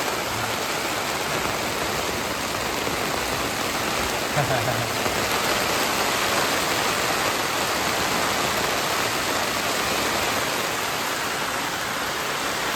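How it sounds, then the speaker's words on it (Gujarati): Heavy downpour in a village hisses continuously, a dense wash of drops falling on a surface without pause, with a faint voice briefly underneath. "આમાં ટીપા પડવા હિંડાય મિત્રો"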